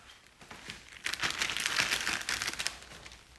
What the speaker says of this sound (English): the old plastic bag trick is really good for making your fingers very sensitive to those contamination on the paint